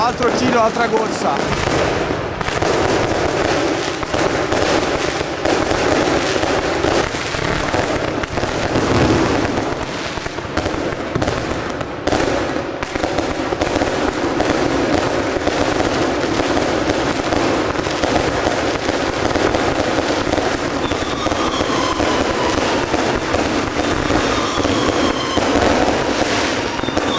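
Close, relentless New Year's fireworks batteries fired from a street in Naples (Fuorigrotta/Vasto) pop, crack and rumble in a thick, unbroken volley, with machine-gun-like rattles and faint voices buried under the noise.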